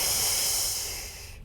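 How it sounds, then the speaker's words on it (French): Forceful exhalation during a plank exercise, a single long breath pushed out hard and close, trailing off near the end, heard alone with no talk. "c'est le moment de reprendre une grande inspiration et d'expirer le plus fort possible"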